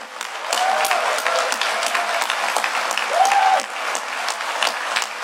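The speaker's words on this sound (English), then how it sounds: "you guys are going to clap again at about like 9 times the volume for those folks over there" An audience at the DEF CON 20 hacking conference breaks into steady applause filling the hall, with a couple of short whistles cutting through the clapping.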